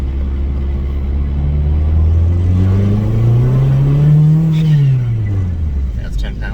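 A turbocharged Mazdaspeed engine with a twin-disc clutch revving under about 8 to 10 pounds of boost, a loud close drone that climbs, peaks and falls away, with a voice talking over it.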